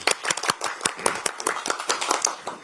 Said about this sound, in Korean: 큰 박수를 부탁드리겠습니다.